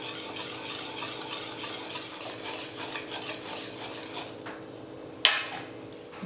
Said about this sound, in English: gradually whisk in the flour, working from the center of the bowl outward